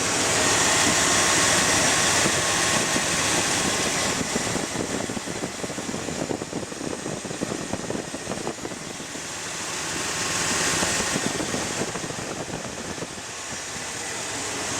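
A 1986 Chevy Silverado C10 engine running at a steady idle, a dense, continuous rumble with broadband mechanical noise and a slight swell near the end, close and fairly loud.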